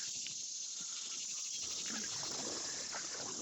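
A dense, continuous high-pitched cicada trill buzzes loudly and steadily beside Sycamore Creek, with faint rustling beneath it.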